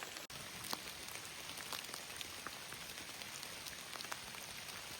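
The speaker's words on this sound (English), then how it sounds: "Hiking in the rain." Steady rain patters on surfaces all around on the Appalachian Trail, a dense continuous hiss with scattered drop ticks, no voices.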